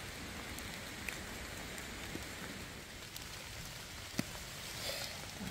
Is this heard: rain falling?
yes